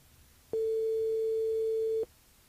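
A telephone call line on a radio show rings once: a single long, steady electronic tone lasting about a second and a half, clear and alone against quiet background hiss.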